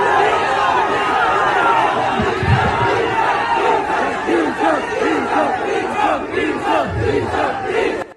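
A large crowd gathered around a woman in Karak chants "D Chowk" in rhythmic repeated shouts, loud and close, with overlapping voices and chatter filling the whole stretch.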